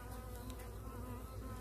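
Honeybees drone steadily over an open hive full of brood, a soft close continuous buzz with no speech.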